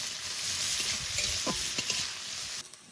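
Onion, garlic, nigella seeds, dried chilli, ginger paste and spices fry in oil in a pan for village-style lentil cooking, giving a steady close sizzle with scraping stir strokes before the sizzle cuts off abruptly near the end.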